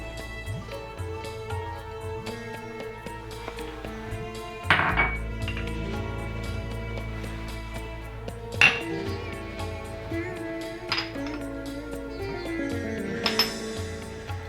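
Metal and glass clatter and clink as spicy cherry tomato jam ingredients are tipped into a pan, with a few sharp clanks standing out over a low steady background hum.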